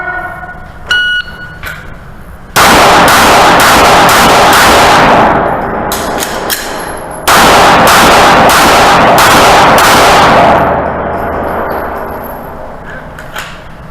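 Very loud pistol fire in a practical shooting drill: a rapid string of about five shots, a pause for slide lock and reload with faint handling clicks, then a second string of about five shots.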